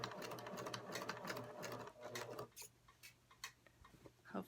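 A sewing machine stitches fabric in a steady whirring run, then breaks into short back-stitch bursts separated by brief pauses, close and fairly quiet, with no talking.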